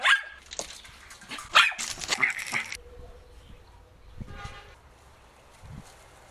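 Dogs bark in a Philippine primary rainforest in Bukidnon, several loud close barks and yips clustered in the first few seconds, then quieter scattered sounds.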